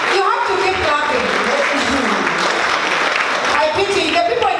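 A crowd keeps up continuous clapping for the Mama Peggy dancers at a charity launch event while a voice speaks over the applause.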